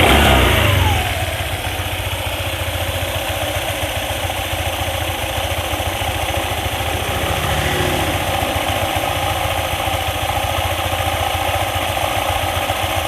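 A Honda ADV 150 scooter engine runs close and loud, being revved with a checked rough noise around the CVT area, holding a steady droning hum with a slight rise partway through.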